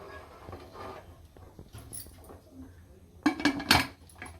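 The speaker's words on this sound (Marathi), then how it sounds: "आता आपण झाकण लावून घेऊया कुकरला" Metal clatter of a pressure cooker lid being handled and locked in place over dal, ending in a burst of louder clanks near the end; a quiet kitchen otherwise.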